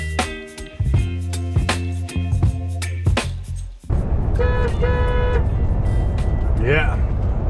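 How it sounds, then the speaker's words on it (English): City truck horn sounds in a long, loud, steady blast, preceded by cab noise and engine rumble with short tonal beeps; a second horn-like tone with a rising squeal follows amid road traffic. "Yeah, proper city horn on this truck."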